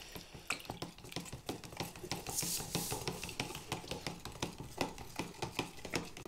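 Guitar finish being stirred with thinner in a container, a steady series of rhythmic wet scraping and sloshing strokes, close and fairly quiet, with no voices.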